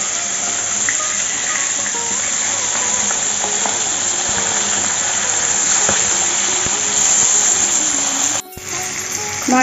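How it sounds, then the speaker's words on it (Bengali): Hilsa fish pieces are turned over while frying in hot mustard oil, keeping up a constant close crackling sizzle with a brief dip and a small burst near the end. No voices. "এক পিঠ হালকা ভাজা হয়ে গেছে, আর এক পিঠ উল্টে দিচ্ছি।"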